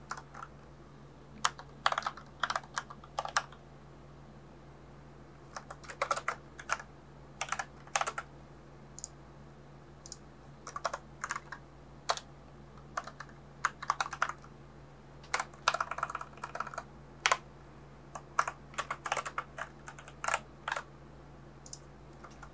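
Fingers type on a computer keyboard while Python code is being written, quick bursts of clicky keystrokes with short pauses between, close and fairly quiet over a steady low hum.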